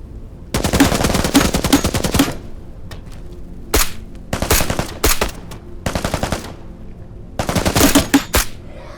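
In the video game ITR2, an armored mimic fires rapid automatic bursts, loud staccato gunfire in several separate volleys with short gaps of silence between them.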